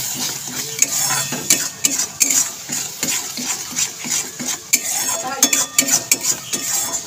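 Whisked yogurt being stirred into fried spice masala in a pan, a spoon scraping and clinking repeatedly against the metal over a continuous sizzle, close and busy.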